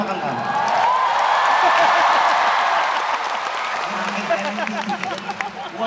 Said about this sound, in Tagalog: Sir, pinapalakpakan ka na.